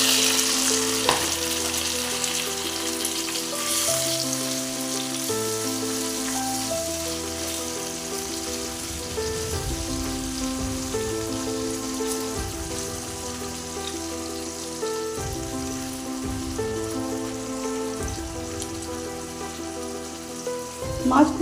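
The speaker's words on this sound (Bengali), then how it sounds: "এখানে সর্ষের তেল গরম হয়ে গেছে, দিয়ে দেবো মাছগুলো।" Tengra fish frying in hot mustard oil gives a steady, dense sizzle and crackle that runs throughout with little variation, and a faint voice is heard briefly.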